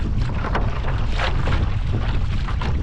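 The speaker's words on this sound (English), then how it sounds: "The wind's blowing down the lake" Steady wind blowing down a lake, a constant roaring rush with microphone buffeting and faint water sounds throughout, no talking.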